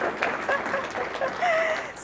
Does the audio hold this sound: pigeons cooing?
no